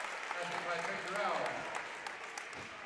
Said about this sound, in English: Fans applauding the Southeast Polk defense